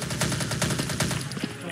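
Automatic gunfire in the video game Truy Kích: a rapid, evenly spaced burst of about a dozen loud shots that tails off into a few scattered rounds.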